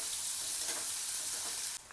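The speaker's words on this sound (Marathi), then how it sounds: "कापलेला कांदा, कांद्याला परतून घ्यायचं।" Chopped onion with green chillies, bor chillies and curry leaves sautéing in hot oil tempered with asafoetida hisses in a steady, close, dense sizzle that runs unbroken, then briefly dips near the end.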